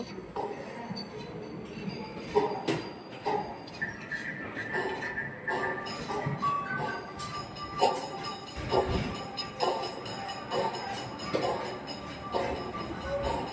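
A small model train clatters steadily along its track at a science centre, with rhythmic clicks and a faint whir, with light clinks and shuffling nearby; no speech.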